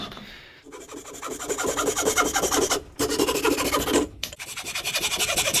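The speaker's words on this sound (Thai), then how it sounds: "ผมใช้เป็นเลื่อยมือในการตัดนะครับ" Rapid rhythmic rasping strokes of a hand saw cutting through wood, close and loud, with brief pauses between runs of strokes.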